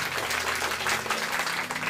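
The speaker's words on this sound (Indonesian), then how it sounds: "Tepuk tangan yang meriah buat Tuhan" Church congregation applauding, a steady wash of clapping held at moderate volume for a couple of seconds.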